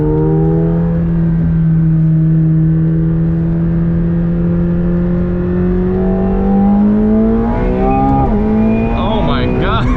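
A 2021 McLaren 720S sports car engine pulls hard under acceleration on a test drive, its loud rising drone climbing steadily in pitch before a sharper surge near the end; no talk.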